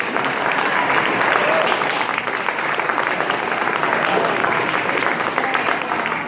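A 50th class reunion crowd gives a big round of applause for teachers, loud and sustained clapping from many people filling the room without a break.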